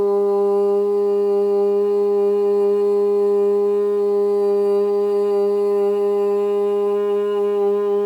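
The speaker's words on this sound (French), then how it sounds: "À la prochaine inspiration, nous chanterons le son Om." A sustained Om chanted during a yoga session hums as one steady, resonant low tone held unbroken for about eight seconds, clear and close, with nothing else around it.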